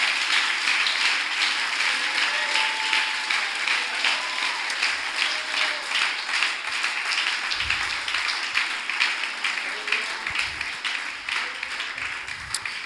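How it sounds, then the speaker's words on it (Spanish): A church congregation applauds in sustained, dense clapping that fills the room for over ten seconds with no speech over it, loud and even throughout. "Si ese aplauso es para el Señor, no puede ser menos."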